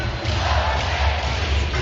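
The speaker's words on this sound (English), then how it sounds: "Some applause going." A basketball crowd at a summer league game, a loud, dense roar of applause and cheering that holds steady throughout, with no clear single voice above it.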